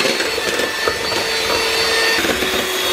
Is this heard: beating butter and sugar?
yes